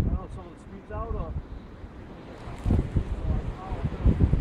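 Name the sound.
wind blowing during a blizzard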